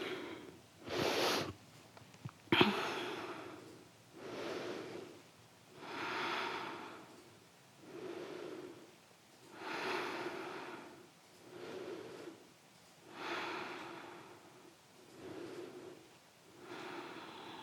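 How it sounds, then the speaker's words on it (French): Slow, deep breathing during a post-run yoga stretch, evenly spaced inhales and exhales repeating about every two seconds, close and soft with no talk. "Et on respire ici."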